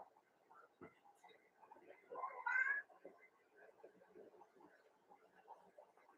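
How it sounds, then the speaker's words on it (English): A shy rescue cat gives a short meow indoors, one brief rising cry standing out over quiet household noise and faint talk. "My rescue kitty."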